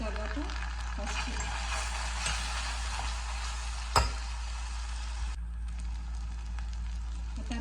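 Ginger garlic paste sizzles steadily in a hot pan while a mutton curry is cooked, a continuous close frying crackle over a low hum, broken once by a short metallic clink.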